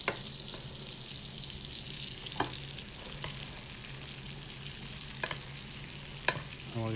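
Vegetables sweat and sizzle in a frying pan while chicken cooks for a Moroccan dish, a steady low hiss with occasional stirring scrapes and clinks close by, no talking.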